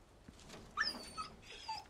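A trapped dog in Resident Evil 4 Remake whimpers in a few soft, high yelps and whines, faint and spaced out over a quiet background.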